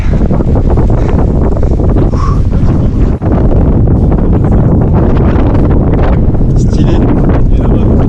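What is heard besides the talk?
strong wind blowing on a bike ride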